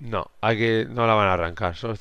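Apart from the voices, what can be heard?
No everyday noise stands out behind the speech.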